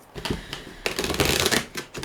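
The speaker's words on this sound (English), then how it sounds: "I've already shuffled this deck, but one more go." A deck of tarot cards being shuffled by hand, crisp riffling and flapping bursts that swell and fade in quick waves, close and loud with no voice.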